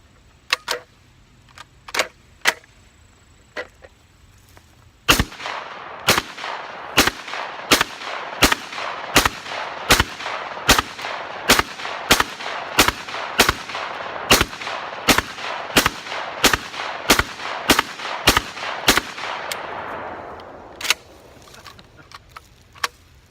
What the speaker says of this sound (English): what about a drum dump of slugs? 20 1-ounce slugs coming out of the Sega 12.